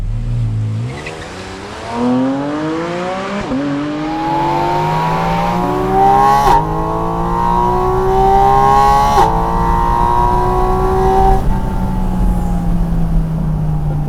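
A Porsche Boxster Spyder RS engine revving hard, pitch climbing through several gears in a rising sweep with sharp shifts between them, loud and close, ending on a falling tone.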